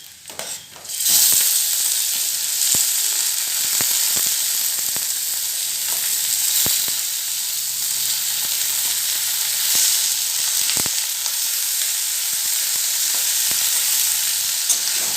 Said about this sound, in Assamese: এতিয়া মই পিঁয়াজখিনি অলপ ৰঙচুৱা হোৱালৈকে ভাজি লওঁ।